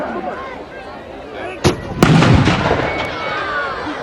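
A large-calibre gun fires at a military display, one loud close blast followed by a long rumbling echo that trails off, with a sharper crack just before it.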